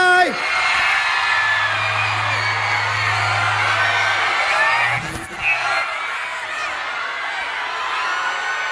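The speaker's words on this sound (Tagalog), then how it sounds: "Sumigaw kayo. Sumigaw kayo." A large crowd at a Liberal Party campaign rally in Muntinlupa shouts, whoops and cheers continuously, a loud sustained roar with a steady low hum underneath and a brief sharp peak midway.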